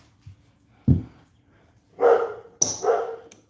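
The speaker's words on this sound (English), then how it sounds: "My dog is getting crazy." A dog barks in a few loud, close bursts, with a short yip first and then a pair of sharp barks, heard indoors during a craps game.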